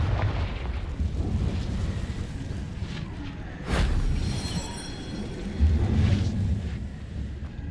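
Confringo fire spell exploding in the game Hogwarts Legacy, a loud rumbling blast with a sharp burst near the middle and a second boom later, over a continuous heavy roar.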